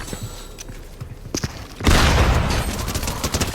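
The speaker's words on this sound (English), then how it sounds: "take him out with my dub shotgun" Blasts from a shotgun in the battle royale game Fortnite, a sharp burst followed by a loud, dense barrage of gunfire and impacts that fills the rest of the moment.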